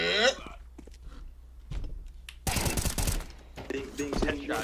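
Gunfire in the Counter-Strike 2 video game: a loud, dense burst of rapid shots lasting about a second, then further sharp crackling shots, with quieter game noise before and after.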